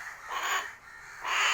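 A young koel, kept by hand, gives two harsh, raspy caws in close succession, loud and close with a short pause between them and no talk over them.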